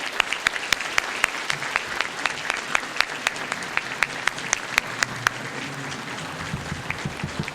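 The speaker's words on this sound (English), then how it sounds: "please give them another round of applause" A banquet crowd at an award ceremony applauds the finalists, with dense sustained clapping from many hands in a large room, steady and fairly loud with a few sharper close claps standing out.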